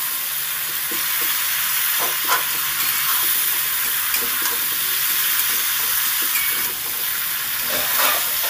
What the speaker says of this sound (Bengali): এবার লবণ আর হলুদটাকে দিয়ে সুন্দর করে আমি ভেজে নেব